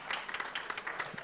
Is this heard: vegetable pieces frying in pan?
no